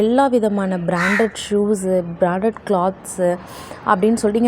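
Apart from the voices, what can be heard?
No everyday noises stand out.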